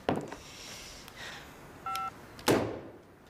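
A telephone is dialed indoors: a single clear two-tone keypad beep, set between soft handling thumps and a sharper knock near the end, with no talking.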